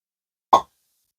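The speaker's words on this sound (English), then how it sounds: "It was a tiny little weak cork pop." A small, weak pop as a cork comes out of a wine bottle, a single short soft plop alone in an otherwise silent moment.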